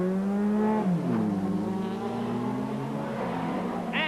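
Touring race cars at a 1989 British Touring Car Championship round, one engine holding a steady high drone then dropping in pitch as it passes, with other cars droning underneath.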